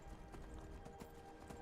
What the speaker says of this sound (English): Shadowmere is a super badass horse.